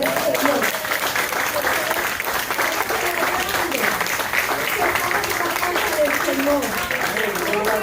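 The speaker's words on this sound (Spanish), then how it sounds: "vamos a comenzar nuestro servicio dándole un aplauso a nuestro Salvador" A church congregation applauding at the start of a service, steady loud clapping from many people that carries on throughout, with voices in the mix.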